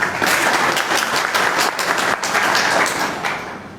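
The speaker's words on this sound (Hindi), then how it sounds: "जोरदार तालियों से स्वागत।" Loud, dense applause from an audience at a BJP workers' meeting in a guest house hall in Bhadra, steady for about three seconds before easing off toward the end.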